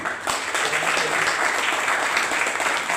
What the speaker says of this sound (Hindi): आप सबको इनके लिए जोरदार ताली